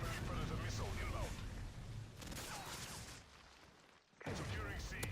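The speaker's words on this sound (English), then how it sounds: "Friendly Predator missile inbound." Predator missile strike in a first-person shooter match: a dense, loud barrage of booming blasts and rumbling impacts, briefly dropping away near the end before surging back, with game voice callouts mixed in.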